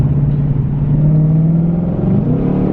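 A 2020 Shelby GT500 engine revs at quarter throttle from inside the car, a loud close rumbling drone that builds steadily in pitch with no voices over it.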